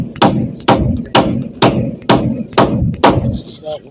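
Nails being hammered by hand, seven sharp, evenly spaced blows about half a second apart, each ringing briefly, loud and close with no voices.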